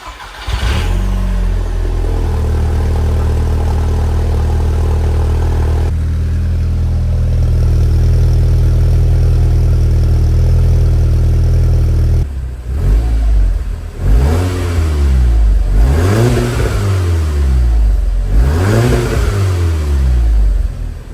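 A Volkswagen MK6 Golf R engine fires up for the first time after an APR catted downpipe install, settling into a loud, close idle and then revving repeatedly in rising and falling sweeps.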